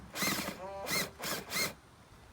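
Power tool loosening a screw bolt on a Mazda RX-8 air filter housing, three or four short whirring bursts close by with brief gaps between them.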